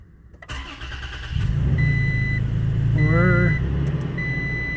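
A 2018 Toyota Tacoma TRD Pro engine cranks and catches, then settles into a steady close idle, with chime-like electronic beeps sounding over it and a voice speaking briefly.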